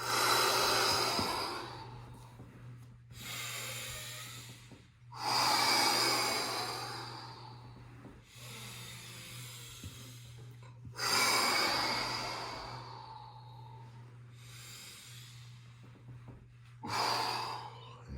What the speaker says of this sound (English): Breathing all the way in and all the way out.